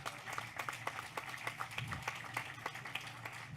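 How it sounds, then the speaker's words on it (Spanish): Audience applause at an education panel on teacher wellbeing, heard as steady scattered clapping from a modest crowd that holds at an even level without voices. "Damos un fuerte aplauso entonces también acá."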